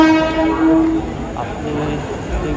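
A train at Thane railway station sounds a loud horn, a held tone for about a second, over the rumbling of railcars and platform noise that continues afterward.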